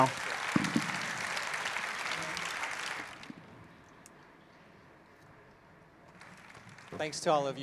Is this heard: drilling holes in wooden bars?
no